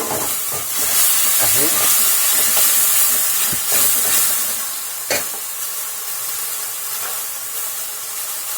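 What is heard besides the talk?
stirring cooking food in a pot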